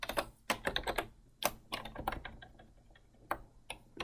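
Rapid, uneven clicks of typing on a computer keyboard, close and fairly quiet, in short bursts with brief pauses.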